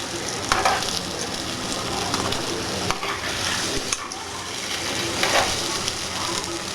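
Idly batter bondas fry in hot oil with a steady, crackling sizzle, with occasional stirring or turning bumps and no talking over it.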